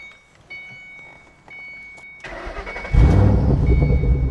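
Ford Mustang Bullitt V8 with 315 hp starting up with valves open, heard from behind: quiet clicks first, then the starter cranks and the engine catches into a loud, deep rumbling idle.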